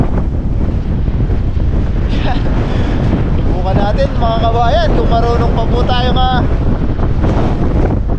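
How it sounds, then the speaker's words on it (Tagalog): Loud, constant wind whips across the microphone at sea on a lone fishing trip, a rumbling wash that continues while someone speaks over it. "sobrang lakas na hangin"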